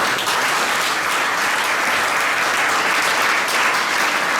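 A church congregation at a prophetic worship service applauds steadily, dense clapping holding at an even, loud level throughout.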